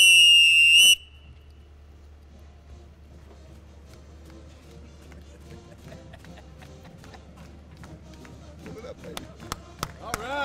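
A coach's whistle shrills once, loud and sharp, at a football stadium groundbreaking ceremony, followed by quiet outdoor ambience with a steady low hum and scattered light taps and clicks building toward the end.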